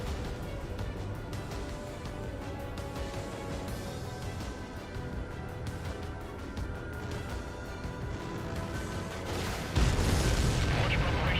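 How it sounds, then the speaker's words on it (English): Anti-air gun fire in the combat flight game Ace Combat 7: a dense, continuous barrage of heavy booming rumble that holds steady throughout and swells louder in the final seconds. "Fire anti-air gun. Now."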